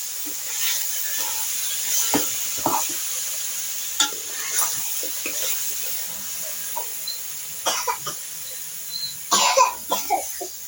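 Chicken with half a teaspoon of turmeric is stirred in a pan, a faint frying hiss under scattered spoon scrapes and taps, with a few coughs and throat-clearing sounds nearby.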